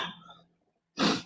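A single short throat-clearing cough bursts out loud and close after a brief pause, following some quiet, low vocal noise.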